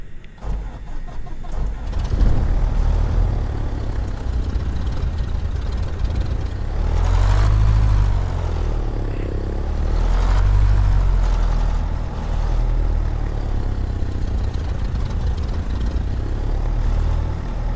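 A Cessna 152 engine in a flight simulator cranks and catches with too little throttle open, then settles into a steady, loud propeller drone that surges and dips a few times before idling on.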